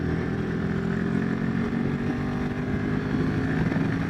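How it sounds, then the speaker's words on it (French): Royal Enfield Himalayan 450 motorcycle engine running at speed, a steady loud drone with wind rushing past, held continuously throughout without a break. "quand ça prend des tours, eh bien la moto change complètement"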